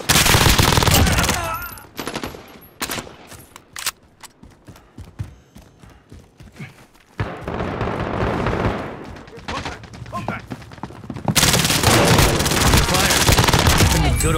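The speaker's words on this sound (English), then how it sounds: "Stop shooting each other." Machine-gun and rifle fire from a first-person shooter video game, with dense bursts at the start and end and scattered single shots in between.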